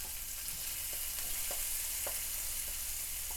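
Onions frying in a pan for kurma, a steady hiss of oil under a few soft, widely spaced stirring taps, faint and close, no speech.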